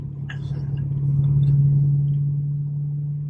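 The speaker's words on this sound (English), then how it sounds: "This thing sounds really good. It's got the SLP or something, the exhaust on it." A 2005 Corvette convertible with an SLP exhaust rumbles steadily, a deep, even low drone that swells slightly mid-clip and then eases, heard close with no voices.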